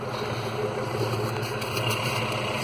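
Off-road vehicle engine idling close up, a steady low mechanical rumble with constant hum, continuous and fairly loud with no talk.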